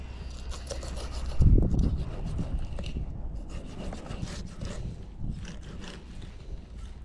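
A knife slices along the skin of a striped bass fillet, giving a soft, steady scraping and rubbing close by with a brief louder thump near the start.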